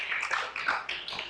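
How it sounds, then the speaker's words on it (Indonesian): Audience applause after a religious talk at an Islamic boarding school gathering, a brief burst of scattered hand claps at moderate distance, uneven and loosely rhythmic, with no voices over it. "Ya tepuk tangan tuh David"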